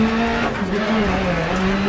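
Volkswagen Polo rally car in DiRT Rally at Sweet Lamb, its engine holding a loud, steady high drone with slight pitch dips as it drives hard on loose ground.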